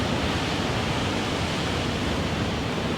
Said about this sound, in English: If we look at the waves